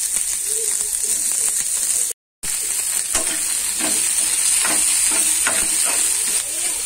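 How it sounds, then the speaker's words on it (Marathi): Chopped onion sizzles steadily in a frying pan, a dense continuous hiss with faint stirring scrapes and clicks, briefly cut off by a short gap. "कांदा आपला थोडस फ्राय झालेला आहे"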